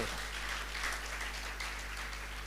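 A church congregation claps together, a dense, even wash of applause heard at a slight distance over a low steady hum, lasting a couple of seconds with no voices standing out.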